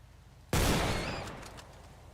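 Single loud gunshot in the video game Project Rogue, fired at a rabbit, a sharp close blast after half a second of quiet, with a ringing tail that decays over the next second and a half.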